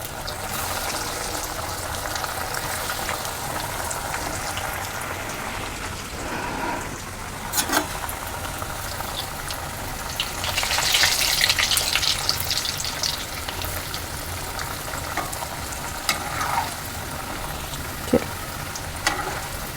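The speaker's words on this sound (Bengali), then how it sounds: "এবার আমি এক এক করে ভাজতে থাকবো" Coated vegetable chops deep-fry in hot white oil in a kadai, a continuous loud sizzle with occasional clicks and small bursts of bubbling, growing briefly more intense midway, with no voices.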